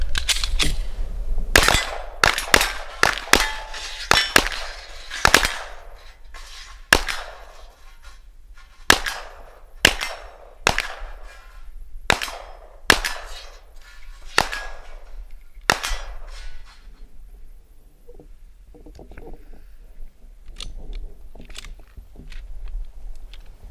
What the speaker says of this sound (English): we always enjoy shooting the Glocks. Don't get a chance all that often to play with the PDWs